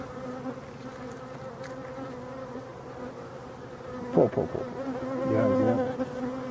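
Honey bees buzzing steadily at a hive during a late-August varroa treatment with Apivar strips, a close, continuous drone with brief louder passes as bees fly near; one short spoken word.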